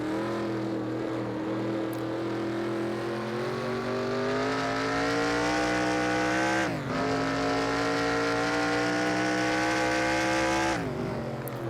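Race car engine in NASCAR Racing 2003 under hard braking, a loud sustained harmonic drone that falls in pitch as the car slows, with two sharp downshift breaks and renewed revving, no voices.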